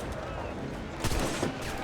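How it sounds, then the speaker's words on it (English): Cannon fire in the pirate video game Assassin's Creed 4 booms out in a short burst of two or three quick blasts over continuous game background noise. "Huh, I just blasted that guy in the head with a cannon."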